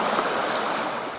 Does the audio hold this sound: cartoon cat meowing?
no